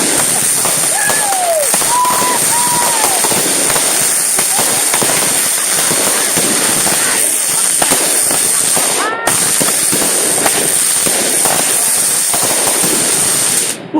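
Fireworks go off outdoors in a dense, continuous run of crackling bursts and pops that stay loud throughout, with people shouting and reacting over the noise.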